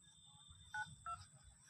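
Two short touch-tone dialing beeps sound in quick succession while a phone call is placed to a local water-supply junior engineer, over a faint low background hum.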